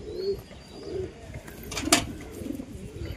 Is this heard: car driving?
no